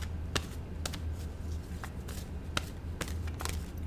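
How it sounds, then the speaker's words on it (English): Oracle cards being shuffled by hand in a quiet room, a soft papery rustle with several sharp riffling snaps spaced irregularly, close and fairly faint over a low steady hum. "So I'm just going to shuffle around a little bit."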